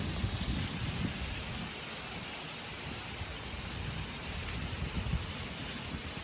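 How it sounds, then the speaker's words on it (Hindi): Heavy rain falls steadily, a dense broadband hiss at moderate level that never lets up, with no talking. "लेकिन यहाँ पर ना अभी से बहुत ज़्यादा बारिश हो रही है।"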